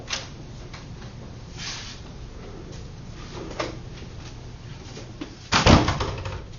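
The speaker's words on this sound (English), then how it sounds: "for me to open that door, I had to pull on the door" A room door is pulled open and then pushed closed, with soft handling noise over a steady low hum, followed by a louder, near thump of the door shutting toward the end.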